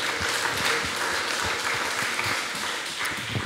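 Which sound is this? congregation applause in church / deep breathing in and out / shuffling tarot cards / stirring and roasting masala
congregation applause in church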